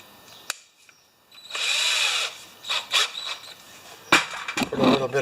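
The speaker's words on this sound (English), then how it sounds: "Gonna put this in a drill." A power drill whirs in several short bursts, one longer run followed by brief on-off pulses, close and fairly loud amid light handling noises.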